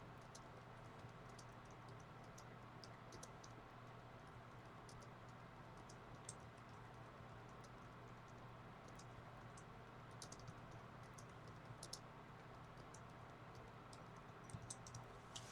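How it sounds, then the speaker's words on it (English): Quiet, irregular keystrokes on a computer keyboard tap away steadily through a low background hum, with a few slightly sharper clicks near the end. "Let me just type that in."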